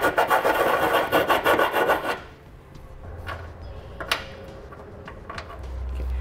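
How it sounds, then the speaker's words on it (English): A hand file rasps in quick, even back-and-forth strokes, enlarging an access hole for a Curt trailer hitch on a 2013 Subaru XV Crosstrek, loud and close for two seconds before dropping to faint scrapes and taps. "What you can do is use a file."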